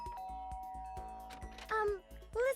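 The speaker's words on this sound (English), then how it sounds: "I guess I should press the doorbell." Doorbell chime in the Danganronpa: Trigger Happy Havoc video game, a few clear tonal dings with short synthetic voice blips following, heard close and alone without narration.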